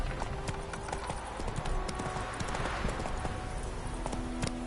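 Roach the horse's hooves clip-clop steadily in The Witcher 3, a rhythmic stream of close hoofbeats over ambient game sound with no talk.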